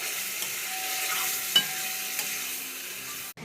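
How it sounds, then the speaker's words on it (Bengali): Spices and marinated chicken fry in oil, giving a steady close sizzle with a couple of sharp utensil clinks against the pan. The sound cuts off abruptly near the end. "মশলা ভালো করে ভেজে কষাতে হবে"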